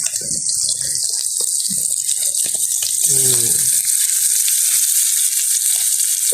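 Steady, loud sizzling of prawns frying in hot oil, continuous throughout, with a brief voice murmuring faintly underneath.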